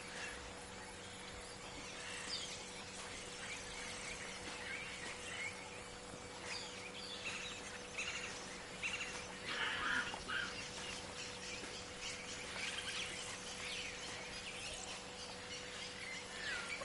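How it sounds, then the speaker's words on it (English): Birds chirp and call steadily through a forest ambience in the video game Call of the Sea, a dense layer of high twittering that swells slightly midway and runs throughout without speech. "Noisy birds."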